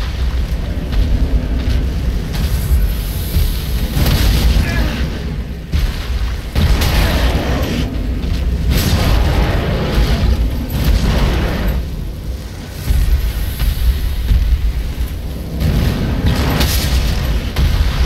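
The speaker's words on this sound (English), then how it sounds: "Are you exploding? You are exploding." Explosions in the video game Dark Souls III rumble in a loud, continuous booming roar, with repeated deep bursts swelling and fading over a long stretch.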